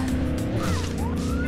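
A video game car running on drift tyres roars loudly with engine drone and a rising tyre squeal, close and continuous through the short stretch, with no talk over it.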